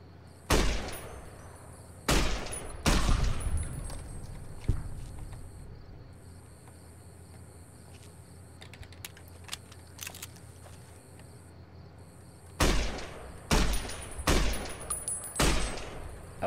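Gunfire in Fallout: New Vegas, clusters of loud cracking shots, a burst early, a long quieter stretch with faint ticks, then another rapid volley near the end, all over a low steady ambient hum.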